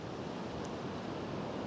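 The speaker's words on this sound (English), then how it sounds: "these waves are definitely getting closer" Sea surf washing steadily onto the shore at Saltburn-by-the-sea, a continuous broadband roar of waves with wind noise, close and fairly loud, no voices.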